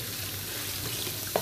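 Ground meat sizzling and browning in a pot with onions for a home-style Anatolian dish, a steady close frying hiss throughout with a brief stir near the end.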